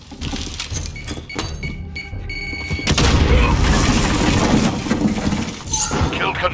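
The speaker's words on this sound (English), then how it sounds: "Grenade. I did not mean to throw it." Grenade explosion in Call of Duty: Modern Warfare multiplayer, a loud close boom with shattering debris after scattered gunfire, rumbling on for a few seconds.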